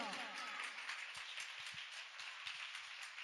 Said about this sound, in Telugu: కడు చప్పట్ల.